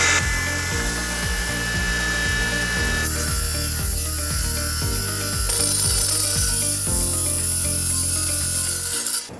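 A tile cutter or saw slices straight through a pre-mixed tile adhesive mat for a kitchen backsplash, producing a loud, steady grinding buzz with rhythmic low thumps that keeps going without a break and stops sharply at the end.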